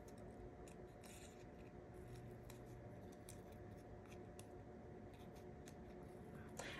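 Scissors cutting paper, giving short, faint snips at irregular intervals over a steady background hum.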